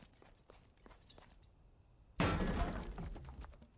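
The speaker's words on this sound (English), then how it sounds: "why are you smashing the workbench?" A wooden workbench gets smashed: quiet shuffling and faint knocks lead up to one sudden, loud splintering crash that rings on and decays over the final second and a half.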